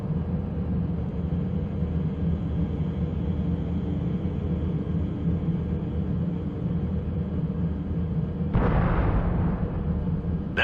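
A steady mechanical drone in the 2007 video game Shadowrun breaks into one sudden explosion near the end, a loud, broad blast that fades quickly back into the constant hum.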